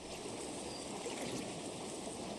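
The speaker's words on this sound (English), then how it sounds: "she walked through the water to get to the other side of the river" River water rushing and bubbling around the feet of someone wading across, a steady close wash of flowing water with no voices.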